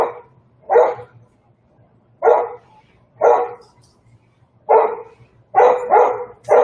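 A dog barks indoors during a painting session, a series of about seven sharp, mid-pitched barks spaced irregularly, some in quick pairs, close and loud against a faint low hum.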